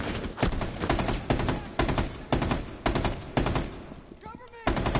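Automatic fire from an open-bolt machine gun in Rainbow Six Siege, loud and close, coming in rapid bursts broken by brief pauses, with a quieter mechanical reload near the end.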